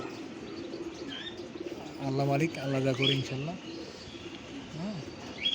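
Breeding pigeons coo in a loft, soft rolling calls repeating close by while someone speaks over them.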